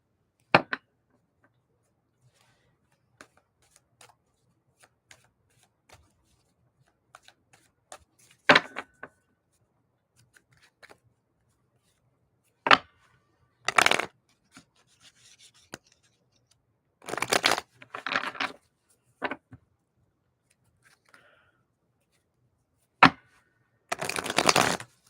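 Tarot cards being shuffled during a live reading, heard as scattered brief riffling and flicking bursts with quiet gaps between them, growing busier and louder toward the end.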